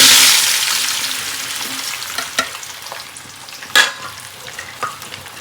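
Thin tapioca slices fry in hot oil, giving a bright sizzle that fades gradually, with sharp clinks and scrapes now and then as they are stirred.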